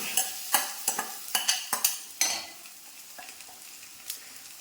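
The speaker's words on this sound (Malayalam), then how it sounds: "ജസ്റ്റ് ഇങ്ങനെ ഒന്ന് ഇളക്കിയാൽ മതി" A spoon stirring coconut paste into tomato thoran cooking in a pan, a quick series of close scraping, sizzling strokes that slow and soften into a gentle sizzle.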